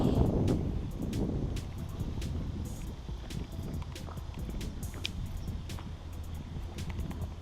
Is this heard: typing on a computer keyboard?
no